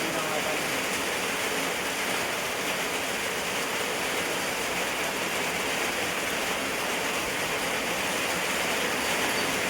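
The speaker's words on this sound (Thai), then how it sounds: "ฝนมาแล้วพี่น้องเอ้ย" Rain comes down steadily in a rural Thai setting, a dense, even hiss of drops on surfaces that stays loud and constant throughout without pause.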